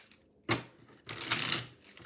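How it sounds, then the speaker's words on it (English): A Deviant Moon tarot deck is riffled in two short bursts, a quick flick followed by a longer fluttering shuffle of cards, close and fairly quiet. "Shuffles,"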